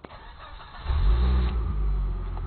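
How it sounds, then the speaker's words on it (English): Volvo S70 T5 car engine starting through a PIN-controlled system, a brief crank followed by the engine catching into a low, steady idle rumble, recorded up close with no talk. "and now my car is started."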